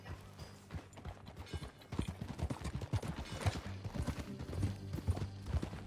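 Horse hooves clip-clop steadily in Red Dead Redemption 2, a brisk rhythmic run of hoofbeats at moderate distance with a faint whinny and low background ambience, no talk.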